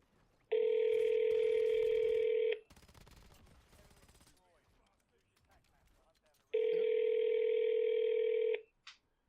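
A telephone ringing tone sounds twice over a call, each a long steady electronic ring of about two seconds, with a pause of faint noise and rustling between them.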